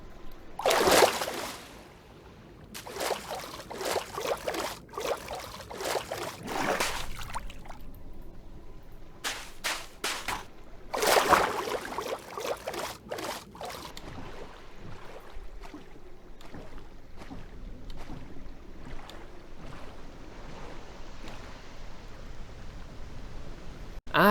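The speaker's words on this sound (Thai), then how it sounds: "ให้ฟังเสียงตอนว่ายน้ำแล้วกัน" Splashing water sloshes in repeated surges as a Minecraft character swims with a realistic sound mod, close and moderately loud, over a steady watery rumble with no talking.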